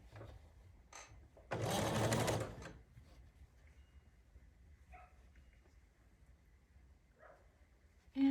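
A sewing machine chain-stitches quilt fabric pieces in a single loud, close burst of about a second, then falls quiet with faint handling sounds and a brief dog whimper in the background.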